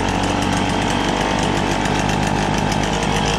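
A Motobecane 88 moped engine, started without choke, runs steadily and loud at close range, a dense continuous buzzing two-stroke drone with rapid pulsing throughout and no pauses.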